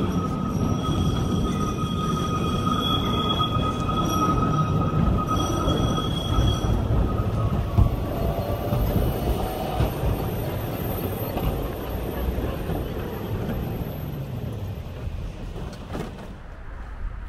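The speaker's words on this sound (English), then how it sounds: "Here comes my tram," A Berlin tram rolls in with steady rumbling, faint wheel squeal and high electrical whine, growing and then settling as it comes to a stop nearby.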